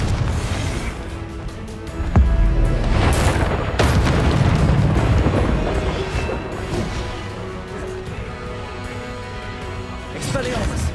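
A Confringo fire spell bursts in Hogwarts Legacy combat: loud, close booming blasts hit near two and four seconds, layered over a dense rumble of crackling battle effects and faint voices, with another swell near the end.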